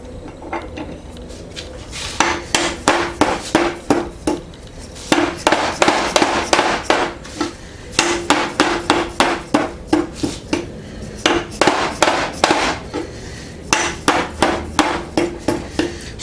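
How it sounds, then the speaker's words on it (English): A 3-jaw 8-inch Ash & Co. lathe chuck being lapped in with polishing compound, giving loud, close, rhythmic metallic knocks in fast bursts separated by short pauses. "is lapping this in with a polishing compound instead of actual lapping compound"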